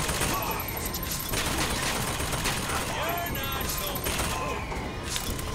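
Gunfire in the video game Bioshock Infinite, dense overlapping shots and bursts forming a continuous loud fusillade throughout, with other game noise mixed in.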